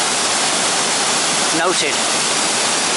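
A waterfall beside a footpath at Llanberis pours as a steady, close roar of broadband rushing water, with a brief voice murmuring over it.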